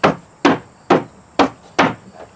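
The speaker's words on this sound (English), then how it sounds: "You might need to hammer it in a little bit." Five sharp hammer blows strike a wooden floor panel being fitted into a hen nest box, evenly spaced about half a second apart, close and loud with no talking.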